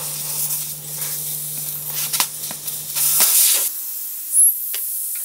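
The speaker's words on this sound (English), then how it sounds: "the next thing you're gonna need to do is take the air out of your tire" Air hissing out of a dry-rotted lawn mower tire through the valve stem once the core is removed with a valve stem tool, a close, steady hiss with a few clicks and a low hum fading partway through.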